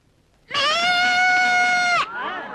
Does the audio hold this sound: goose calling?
no